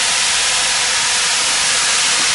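Vegetables and tomatoes tipped into a hot barbecue wok set off a loud, steady hiss of sizzling that holds without a break from start to finish.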